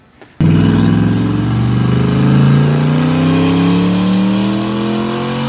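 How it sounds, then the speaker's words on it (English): Chevrolet Corvette C8 with aftermarket exhaust and 1045 rear-wheel horsepower on a stock engine bursts into a loud, close rev after a brief quiet moment, its pitch climbing steadily and holding a sustained roar. "I wouldn't say it's that much louder than your average C8 that has aftermarket exhaust"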